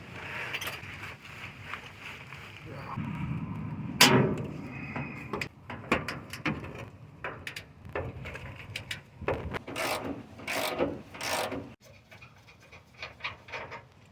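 Ratchet working loose a very stuck 19mm bolt on the passenger-side cross member of a Ford with a 5.4 engine: repeated close, sharp clicking and scraping strokes in irregular bursts, one loud crack near the start, with low rustling between.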